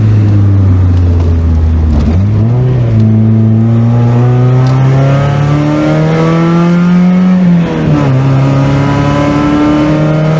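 A Mazda Miata engine drones steadily in 5th gear at about 40 mph and 2,300 RPM, loud and close from inside the car, with the pitch dipping and climbing again as it eases off and pulls back.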